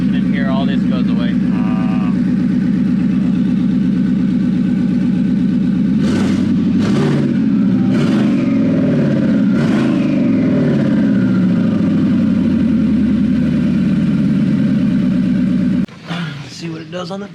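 A Canadian Ford Mustang engine running on a dyno, a loud sustained throaty drone with several sharp rev surges in the middle, cutting off near the end as a voice speaks over the closing moments.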